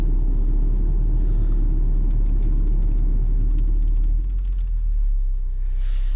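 Audi car engine running with tappet noise, a close, steady low rumble carrying a faint light mechanical ticking, which eases slightly toward the end.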